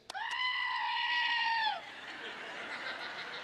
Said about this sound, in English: when you squeeze it, you can hear the goat scream like this.